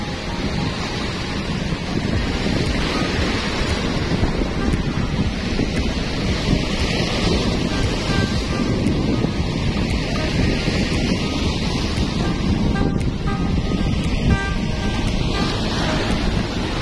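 Ocean waves at Manila Bay roll in steadily under heavy wind buffeting, a continuous loud wash and rumble of surf with no voices throughout.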